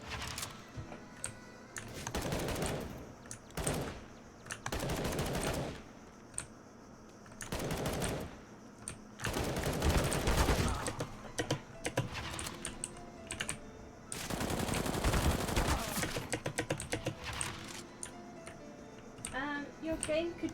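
Gunfire in Counter-Strike: Global Offensive comes in repeated bursts of rapid shots, loud and close, while mechanical keyboard typing clatters throughout and a person talks between bursts.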